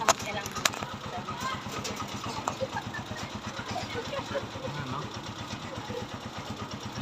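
A motorcycle with a sidecar runs at a steady idle, its engine a close, continuous low throb. Someone talks briefly over it near the start.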